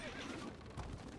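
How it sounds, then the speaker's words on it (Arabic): A horse gives a brief, faint neigh in the medieval castle strategy game Stronghold Crusader, a single short call heard alone. "الفرس تعدو."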